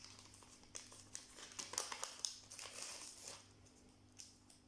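Paper gift pouch sealed with masking tape being opened up close, a run of short crinkling and rustling bursts of paper over a low steady background hum, no talking.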